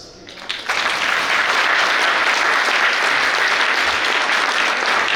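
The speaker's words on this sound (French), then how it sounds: "Applaudissements encore plus fort" An audience at a university graduation ceremony bursts into applause after a brief quiet start, then keeps up steady, dense clapping that holds strong to the end.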